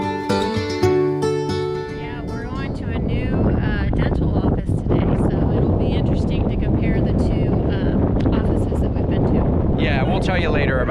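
Outdoor wind buffets a microphone near Los Algodones, a loud, continuous rumbling roar that swells and persists, with a brief tonal musical passage at the start.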